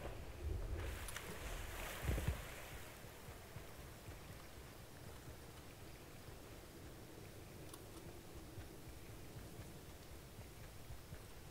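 A boat in a video game runs with a low, steady engine rumble and water wash throughout, with a brief louder thump near the start.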